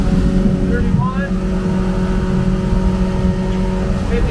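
A Yamaha 90HP outboard engine on a 2005 Boulton 18ft boat runs at high throttle near 6,000 RPM, a loud steady drone with wind and water rush, heard up close.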